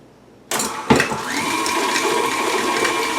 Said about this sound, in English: Now mix this around first in your mixer until it's blended and nice and fluffy